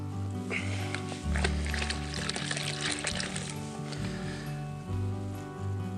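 Cold tap water pours steadily into a beer brewing vessel being topped up to 23 litres, a continuous splashing rush with gurgling changes in tone as the level rises.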